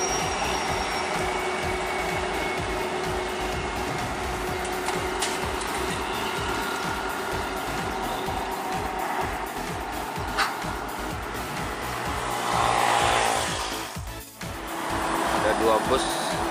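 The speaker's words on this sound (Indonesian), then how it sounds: "Kayaknya ini bus Intra dan Putra Pelangi." Intra and Putra Pelangi intercity buses, one on the Siantar–Pekanbaru route, run in convoy with a continuous engine and road rumble, swelling louder as a vehicle passes near the end.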